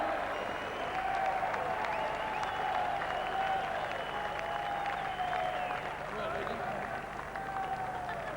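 Steady audience applause at a 2000 Redcliffe versus Toowoomba Queensland Cup grand final presentation, a sustained wash of clapping from a large crowd with a voice audible over it.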